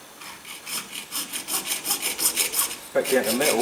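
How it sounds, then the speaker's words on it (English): A hacksaw blade drawn backwards across the body of a Rover SD1 car door, grinding down to bare metal in a quick, steady rhythm of rasping strokes, close and loud, with a short spoken phrase near the end. "I've got an hacksaw blade and I'm going to use it cutting backwards"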